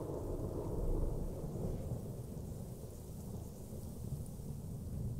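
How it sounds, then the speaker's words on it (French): Heavy rain and rolling thunder in the zoo-building video game Planet Zoo form a dense, continuous roar at moderate volume, with low rumbles swelling and fading under the steady downpour. "Qu'est-ce que c'est que cette pluie diluvienne en 31 juillet?"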